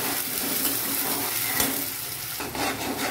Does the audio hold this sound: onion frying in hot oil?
yes